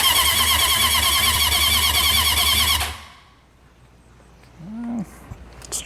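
A junkyard Honda CB750F motorcycle engine cranking loudly with a fast rhythmic whir, then stopping abruptly, followed by quiet and a brief voice.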